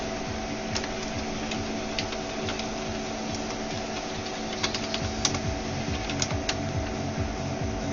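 Keys clack on a computer keyboard in a steady patter of close, faint taps over a constant background hum, with a few sharper strokes near the end.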